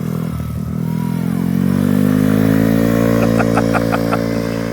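A scooter engine revs as the rider opens the throttle while learning to ride, a steady buzzing drone that climbs in pitch and grows louder, close by and alone.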